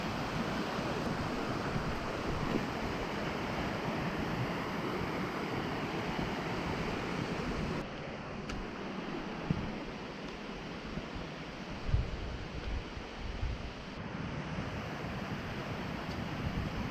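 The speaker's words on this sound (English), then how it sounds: "And so the waterfall is just right down there." Jungle waterfall on Kauai roaring from below, a steady broadband rush of falling water mixed with wind buffeting the microphone, continuous and fairly faint with no voices.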